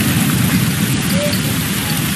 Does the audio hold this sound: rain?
yes